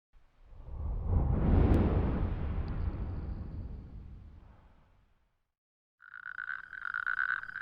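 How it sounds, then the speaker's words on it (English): Natterjack toads call at night in spring freshwater pools among dunes in northern England. A loud swelling rush fades out, and after a brief silence a close, rapid, buzzing rattle of calling males begins and continues steadily. "natterjack toads have gathered in pools of fresh water for a night of courtship. The males are locked in a singing contest."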